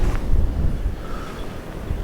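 Strong wind on James's Island buffeting the microphone, a steady loud rumbling roar with gusty swells and no voices.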